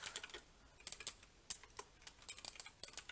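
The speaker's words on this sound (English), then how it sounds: "I'm going to type in Lot's life" Quiet, irregular tapping of fingers on a computer keyboard, keystrokes arriving in quick clusters with short gaps, close but soft, no talking.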